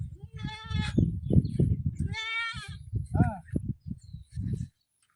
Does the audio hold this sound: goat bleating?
yes